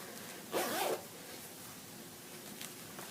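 One quick, close zip rasps on a jewelry roll organizer with zippered sections, followed by quiet handling and faint room noise.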